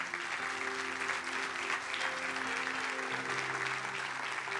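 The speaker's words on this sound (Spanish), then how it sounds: "¿Le puede dar un aplauso a Dios por eso?" A church congregation applauds steadily and loudly, a dense wash of clapping that holds for several seconds over sustained low musical tones.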